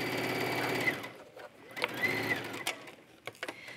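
A sewing machine stitches knit fabric beside the elastic waistband of drawstring pants: a brief close, fast mechanical whir that stops, followed by a few faint clicks and handling sounds.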